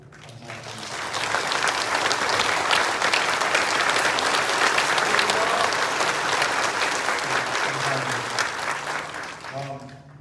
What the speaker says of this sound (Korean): 우리 김양 사장님을 뜨거운 박수로 감사합니다